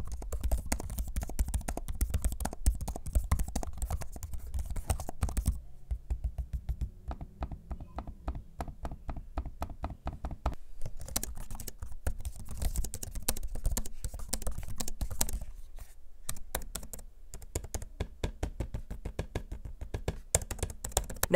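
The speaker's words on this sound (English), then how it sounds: "let's do a quick audio sample of me typing on both of the keyboards and using the trackpad" Rapid typing on HP ZBook Fury G8 and Studio G8 laptop keyboards, in bursts of crisp clicks and taps, close and fairly quiet, with short pauses between runs of keystrokes.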